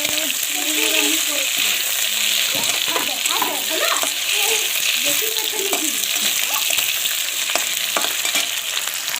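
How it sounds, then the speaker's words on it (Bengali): Potatoes frying in a pan until reddish-brown, a steady close sizzle with occasional stirring scrapes and clatter running throughout. "আলুগুলো আমি লাল লাল করে ভেজে নিচ্ছি।"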